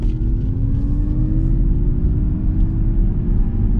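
A Mazda MX-30 electric car pulls away from about 20 mph, its motor whine climbing steadily in pitch over a loud road and cabin rumble, continuous throughout.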